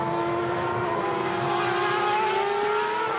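A 2008 Superleague Formula race car from the Beijing Guoan team drives round the Nürburgring, its engine whining at a high, steady pitch that slowly rises, heard continuously from trackside at moderate loudness.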